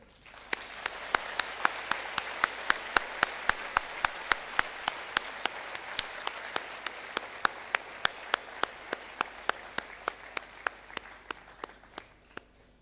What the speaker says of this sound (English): let's give a round of applause to our lecturers,